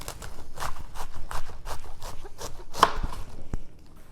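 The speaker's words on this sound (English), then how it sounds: "We're gonna take one of these halves and we're gonna quarter it." A knife chops cabbage into pieces on a cutting board, a quick series of about a dozen crisp, evenly spaced thuds close up, with no talking.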